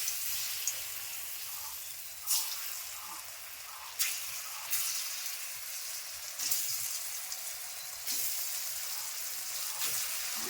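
Chana dal dalna pieces frying in hot oil in a wok, a soft continuous sizzle with occasional sharper crackles and stirring clatters, quiet and without talk.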